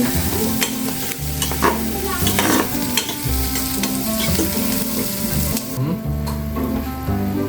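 Chicken for adobo fries in a pan with steady close sizzling, overlaid by frequent stirring and scraping clatter, with no talk.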